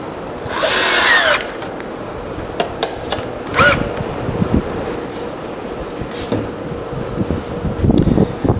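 A power driver drives small zinc-coated lag screws through wheels into an anvil table in short whirring bursts, with three separate runs and quiet pauses between them.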